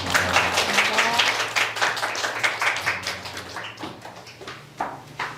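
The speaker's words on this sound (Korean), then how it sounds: "오늘께 감사의 박수 드리겠습니다" Youth retreat group applauding in thanks after a prayer at a church high school gathering, a loud burst of clapping that thins into scattered claps and trails off.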